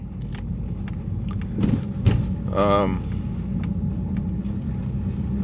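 Low, steady road rumble inside a 2014 Ford Focus with a faulty transmission as it drives, with light rattles and a brief whirring sweep partway through.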